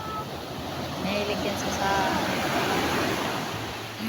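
Sea waves wash along a beach in a soft continuous surf roar with some wind, while someone speaks briefly over it.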